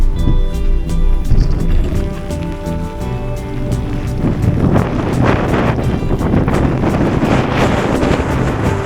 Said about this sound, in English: Wind against the tide here too.